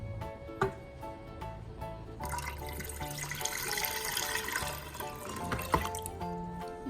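Three cups of water poured into a pressure cooker pot already holding coconut milk, a soft splashing pour building up for several seconds between quiet drips and clinks.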